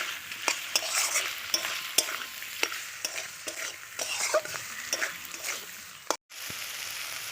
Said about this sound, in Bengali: এবারে এটা একটু কষিয়ে নেব